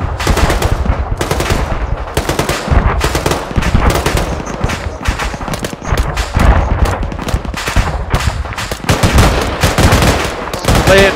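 Dense, loud gunfire from rifles and machine guns during an assault on an airfield, with rapid overlapping bursts and single cracks continuing nearly without pause for the whole stretch.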